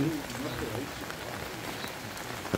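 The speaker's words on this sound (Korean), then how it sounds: "비가 점점 거세지고 있어요." Steady rain falls and drips off the eaves of a mountain village house, a dense, even patter close by with a slightly louder drop near the end.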